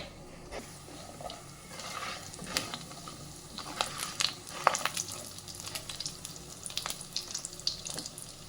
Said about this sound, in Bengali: এই পাশে আবার একটু তেল দিয়ে দিলাম, বড়িটা ভেজে নেব ভালো করে।